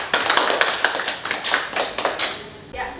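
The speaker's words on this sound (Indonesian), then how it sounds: "Tepuk tangan dulu." Short burst of applause from a school talk show audience, with a few distinct claps standing out over a dense patter of hands, fading near the end before a brief voice.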